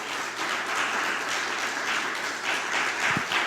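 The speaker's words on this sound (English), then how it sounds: "Please give our panelists a round of applause." Audience applause for a panel at a session on saving democracy, a steady mid-level wash of clapping from a room of people that holds through the whole stretch.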